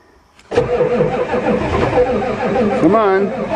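Worn old Ford diesel truck cold-starting on a cold December day: after a brief quiet moment the engine cranks and catches into a loud, rough, steady rumble, with a voice briefly heard over it near the end.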